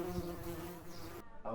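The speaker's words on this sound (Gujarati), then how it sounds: "આ બાજુ એક ભમરી ફરી રહી છે, અવાજ આવે છે" A wasp buzzes around nearby in a steady, close drone that cuts off near the end, with no voices.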